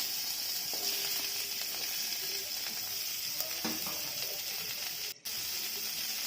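Thickly sliced onions hit a spoonful of hot oil in a heated kadai and sizzle with a steady, close hiss. Faint clinks of cooking are heard underneath, and no one speaks.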